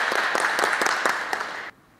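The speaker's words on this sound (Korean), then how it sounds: "참석자분들께서 감사의 박수 한번 보내주시면 어떻겠습니까?" A ceremony audience at a cooperation agreement signing breaks into steady, dense applause that rings out for a moment and then cuts off abruptly near the end, with no voices over it.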